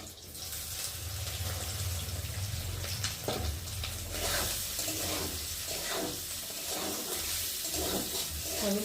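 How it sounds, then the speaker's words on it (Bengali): Soya chunks drop into hot oil and fry with a loud, rushing hiss that swells and churns, bubbling more unevenly after a few seconds and holding steady to the end. "তেলটা গরম হয়ে গেছে, আর এখন আমি এই যে সয়াবিনগুলোকে ভেজে নেব।"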